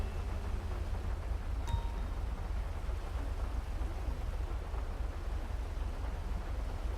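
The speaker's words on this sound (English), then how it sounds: "See the roads, the rain." Steady, dense rain in Grand Theft Auto V hisses continuously with a low rumbling undertone, like a downpour heard close up, with a brief tonal blip.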